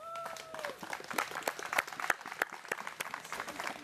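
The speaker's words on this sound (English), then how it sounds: "I'd ask you to join me in giving him a round of applause" Applause from a crowd at a small civic Parks and Recreation ceremony, scattered claps building into a steady round of clapping, fairly close and moderately loud, with no talking.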